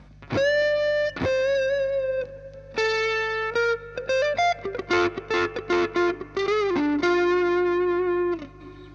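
An electric guitar plays through a Fulltone Plimsoul mk II overdrive pedal with gritty overdrive, starting with sustained held notes, then a quicker run of picked notes and bends.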